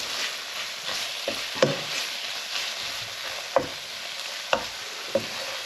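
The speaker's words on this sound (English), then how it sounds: "Give that a stir." Spices sizzle and fry in a pan for chicken tikka masala, with a steady hiss broken by several sharp scrapes and clicks of stirring against the pan.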